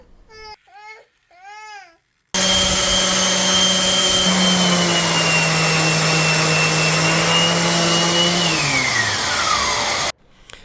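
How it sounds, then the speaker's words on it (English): An orbital sander working over a wooden tabletop gives a loud, continuous whine that starts abruptly, holds steady, dips in pitch near the end, then cuts off, with brief chirpy sounds before it. "After letting the putty dry, I used an orbital sander to sand the entire top."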